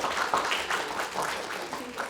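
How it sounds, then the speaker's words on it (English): A small audience applauds two volunteers at a magic show. The clapping is faint but continuous and evenly textured, lasting about two seconds. "A big clap for them"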